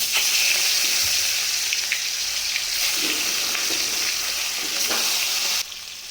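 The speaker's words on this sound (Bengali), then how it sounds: "কড়াইয়ের মধ্যে এক এক করে সব ভেজে নেব।" Marinated fish fry in a wok, a loud, close, steady sizzle with scattered pops that drops slightly in level just before the end.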